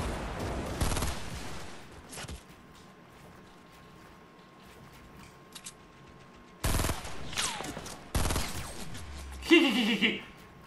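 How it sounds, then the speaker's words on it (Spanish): Bursts of gunfire in a Fortnite Battle Royale match, loud clusters of shots separated by quieter stretches, ending in a sharper, brighter burst. "Si yo estoy disparando, ¿no?"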